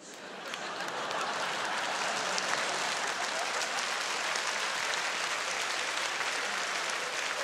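Sustained hand clapping from a studio audience at a comedy stage show, dense and steady for several seconds without speech.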